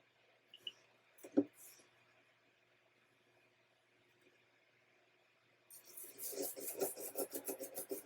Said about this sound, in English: I just go back over it again, same way, and scrub anywhere I find liquid residue